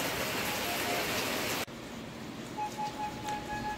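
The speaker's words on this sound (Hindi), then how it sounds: "थोड़ी देर तक बारिश चलती रहेगी।" Rain falling outdoors, a dense steady hiss that is loud at first, then drops abruptly to a softer, lighter patter with faint background tones, no talking.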